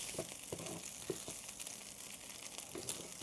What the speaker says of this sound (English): I'm just going to continue to fry the brains